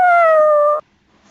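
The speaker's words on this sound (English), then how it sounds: "That's Josie howling" A dog gives a single sustained howl with a wavering, slightly falling pitch, loud and close, lasting under a second before cutting off into near silence.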